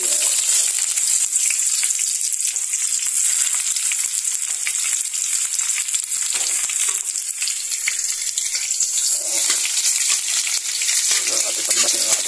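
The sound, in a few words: sautéing garlic and onion in a pan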